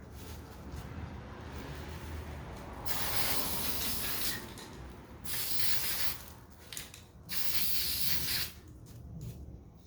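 Aerosol spray hisses in several bursts of a second or two onto a Yamaha YZ250 two-stroke motorcycle's new air filter, separated by quieter handling noise, close to the microphone.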